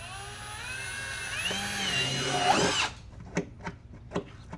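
A power drill whines steadily at close range, its pitch wavering as it bites into a vehicle for a hitch install, then cuts off, followed by a few sharp clicks and taps.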